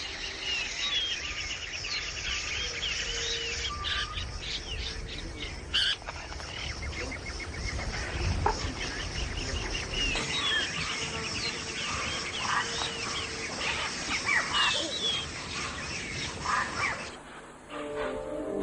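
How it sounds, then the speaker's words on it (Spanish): Parrots flying in pairs, a mealy amazon among them, and other exotic birds squawk and chatter shrilly in an Ecuadorian jungle, a dense, continuous chorus with insect buzz underneath throughout. "los loros que vuelan siempre en parejas y animan la selva con sus agudos sonidos"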